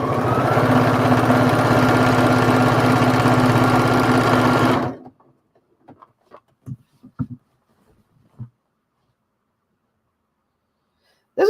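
A sewing machine runs fast and steady while straight stitching a quilt, a continuous mechanical whir that cuts off abruptly, leaving quiet with a few faint clicks and handling knocks.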